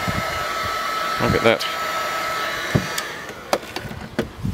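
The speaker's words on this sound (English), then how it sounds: "if I hit that with the heat gun, you'll see what's going to happen" A heat gun blasts hot air onto EVA foam with a strong, steady blowing roar close by. Someone speaks briefly over it, and a few light taps and clicks follow as the airflow tails off.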